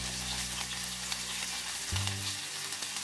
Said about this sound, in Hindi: फोड़नी अच्छी तरह से फ्राई होने के बाद जो ऑनियन लिया वो ऐड कर देती हूँ।